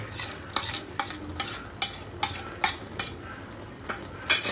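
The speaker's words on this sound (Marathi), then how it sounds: "आता हे आपण 2-3 मिनिटांसाठी परतून घेऊया" Carrot halwa with sugar and dry fruits is stirred and sautéed in a pan, a spoon scraping in a steady rhythm of about ten strokes over a soft sizzle, close and clear with no talk.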